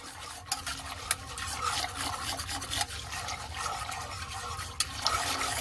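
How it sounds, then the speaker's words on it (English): A fireweed jelly mixture being stirred in a pot, with a steady wet sloshing and scraping texture throughout and a few sharper clinks of the spoon against the pot. "So we're going to stir that up really well."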